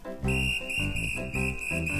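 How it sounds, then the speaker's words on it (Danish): A whistle blown in a children's song, sounding as loud shrill tones in three separate blasts over backing music, each held for about half a second. "Hør, hun pifter igen."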